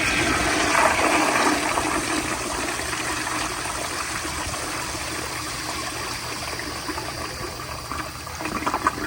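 A 1980s American Standard Afwall toilet with a flushometer valve flushes in a loud, forceful rush of water that holds steady and close for several seconds before slightly easing into refill trickling.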